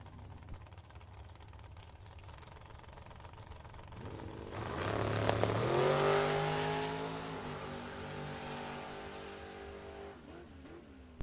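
Two drag racers, a dragster and a roadster, launch hard from the line at a Super Pro bracket race, engines swelling into a loud, rising roar that peaks mid-clip and then fades as they tear off down the strip.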